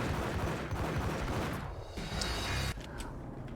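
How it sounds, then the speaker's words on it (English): Gunfire in a third-person shooter game, a dense, loud stretch of rapid shots and booming blasts that fills the whole span, with a brief drop partway through, heard without talk. "I'm shooting you."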